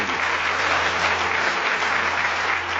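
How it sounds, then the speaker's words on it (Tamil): Steady applause from a crowd, a dense wash of clapping hands that holds evenly for a few seconds, with no voices standing out. "பாராட்டு."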